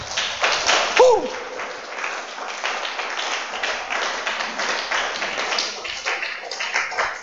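Church congregation applauding, a steady wash of clapping through the whole stretch with a brief cheer near the start.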